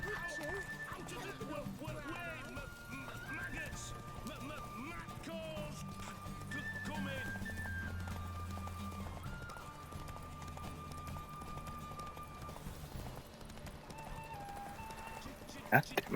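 A horse gallops in The Witcher 3: Wild Hunt, with rhythmic clip-clop hoofbeats and occasional whinnies under game music and effects, a voice talking over much of it.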